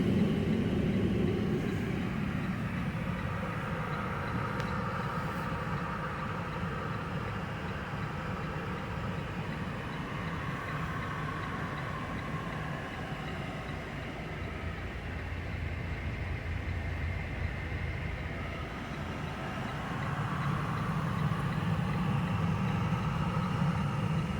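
A full freight train rolls in toward the crane at the end of a dead-end rail ramp, a steady low rumble of wheels and cars holding evenly throughout and swelling slightly near the end, with no talk.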